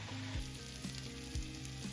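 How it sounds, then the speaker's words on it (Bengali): Cauliflower and potato pieces fry in a pan with a steady, close sizzle and crackle of hot oil, while soft clinks and stirring knocks recur every half second or so. "ফুলকপি আলু ভাজা হয়ে গেছে"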